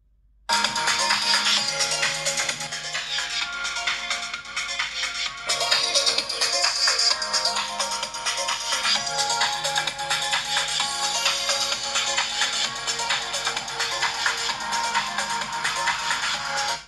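Ringtone melody played through the stereo loudspeakers of an iQOO 10 Pro phone, loud and continuous for about sixteen seconds, bright and thin with little bass and no talking.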